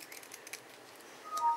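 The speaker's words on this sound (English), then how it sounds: "I cut down the middle and then I grab each point" Scissors cutting paper for a Stampin' Up birthday card banner, giving a few light, quick snips followed by a brief rising swish, quiet and close with no talking.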